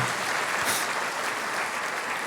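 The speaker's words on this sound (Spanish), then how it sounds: "¿Por qué no le aplaude fuerte al Señor?" A church congregation applauding, a dense burst of clapping that fills the short stretch evenly, loud and close with no voices over it.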